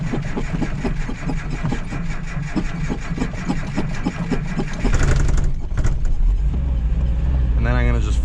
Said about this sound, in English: I have not tuned it for this engine, so that's probably why it takes a while to start.